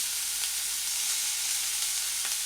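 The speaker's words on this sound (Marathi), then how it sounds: "शेंगदाणे तेलात छान परतून घ्यायचे, तळून घ्यायचे." Peanuts and potato fry in oil in a pan, giving a steady, close hiss and sizzle that holds evenly throughout with no one talking.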